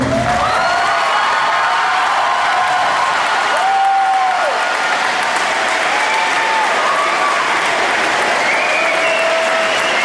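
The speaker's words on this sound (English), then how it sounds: "I'd like everyone to stand up and give them a round of applause." Loud, sustained applause from a standing press-conference audience honoring a player's parents, continuous throughout, with faint voices and whistles rising above the clapping.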